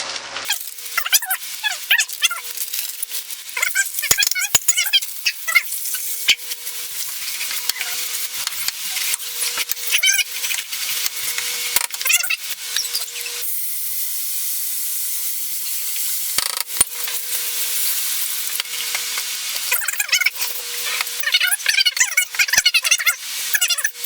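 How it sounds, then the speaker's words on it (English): Beef bourguignon stew is deglazed and stirred in a hot pan, with continuous sizzling and scraping spoon strokes that come in bursts, dip briefly into a hiss and then resume. "we deglaze this and get all the good bits up"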